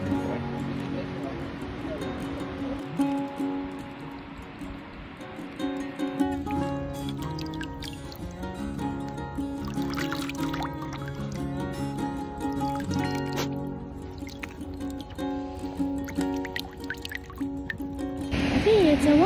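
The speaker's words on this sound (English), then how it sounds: "See, it's a waterfall." Small waterfall trickling and splashing steadily nearby, a continuous gurgling liquid wash with dripping detail, heard under occasional voices.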